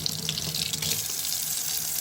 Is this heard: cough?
no